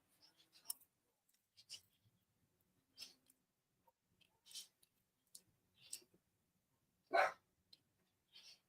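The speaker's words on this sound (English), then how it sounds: "Oh, these dogs. I wish they'd be quiet" Dogs in a home bark in short, scattered yips and woofs, quiet and somewhat distant, with small clicks and shuffles between the barks and one louder bark near the end.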